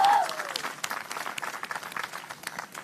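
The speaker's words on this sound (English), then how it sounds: "Can you give a big round of applause?" Outdoor crowd applause at a botanic gardens 50th anniversary celebration, a short burst of scattered clapping with individual claps audible, loudest at the very start and then continuing at a lower, uneven level.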